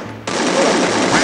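Sustained automatic AK47 fire in the Free Fire battle game, a loud continuous rattling burst that starts abruptly after a brief lull and holds steady to the end.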